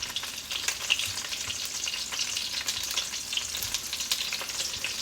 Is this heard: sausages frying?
yes